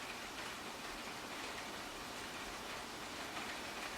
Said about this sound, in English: It's really starting to rain.